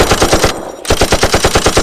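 Rapid automatic gunfire from enemies in a video game rattles in fast, loud, evenly spaced bursts, pausing briefly near the middle before continuing without talk.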